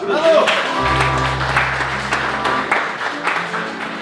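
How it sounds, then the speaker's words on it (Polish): Audience applause at an Independence anniversary evening gathering, steady clapping over a low hum, with talking and a deep tone mixed in early on. "wielkie brawa"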